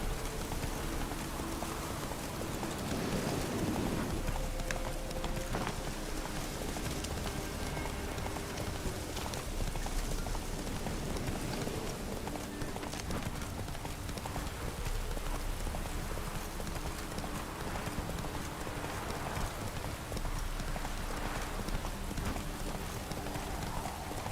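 Roach the horse's hooves galloping in The Witcher 3: Wild Hunt, a steady clip-clop rhythm over a constant wash of rain-like ambient noise, moderately faint throughout.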